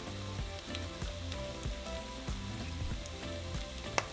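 Chiles, including chile de árbol, sauté with garlic in a hot pan, crackling in a dense, steady sizzle close up with small pops throughout and no talking.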